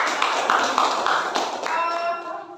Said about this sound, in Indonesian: tepuk tangan untuk hasil diskusi